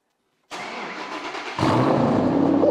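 A Shelby GT500 Mustang engine cranks and catches, then settles into a loud, steady rumble close by, heard alone without talk.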